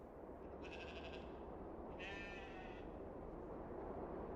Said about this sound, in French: Heureusement, il y a les moutons.